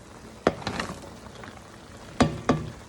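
Onions tumble into a pot of goat stew and are stirred, giving a soft sizzle with a few sharp scraping clacks of a utensil against the pot.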